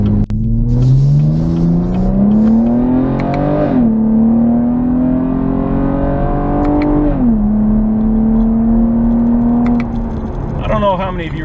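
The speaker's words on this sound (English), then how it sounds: "it sounds good with that dual mode exhaust" A 2016 Camaro V6 with dual mode exhaust accelerates hard through the gears, its engine note climbing steadily, dropping at each shift and climbing again, loud and close from inside the car.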